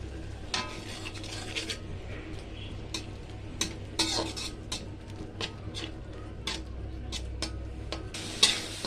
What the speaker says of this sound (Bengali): এগুলো নেড়ে ছেড়ে একটু নরম করে নেব।